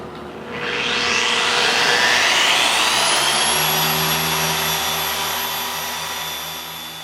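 A dual action car polisher spins up and runs steadily at speed setting 6, a loud continuous whirring drone with a rising tone as it reaches speed, then holding evenly.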